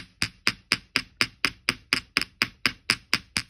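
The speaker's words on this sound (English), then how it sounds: "I'm going to hammer and drag." Steady, evenly spaced hammer strikes flatten wire for handmade wire-wrapped earrings, about fourteen sharp metallic taps in a row, close and fairly loud with no talk.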